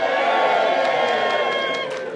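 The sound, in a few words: crowd cheering at town hall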